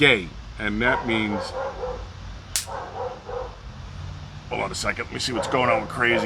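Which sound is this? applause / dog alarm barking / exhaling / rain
dog alarm barking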